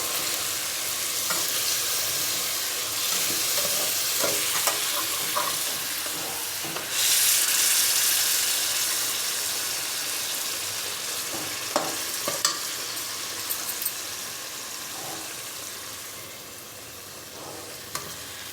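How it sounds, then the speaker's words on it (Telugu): Fish curry ingredients, including ginger, fry and get stirred in oil over high heat, a loud continuous sizzle with scraping stirring strokes and a brief louder flare partway through. "హైలో పెడితే అది వేగుతుంది"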